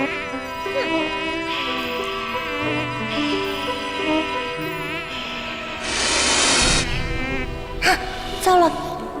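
A mosquito whining and buzzing in a quiet room at night, a thin wavering drone over soft background music, with a brief breathy gasp near the end.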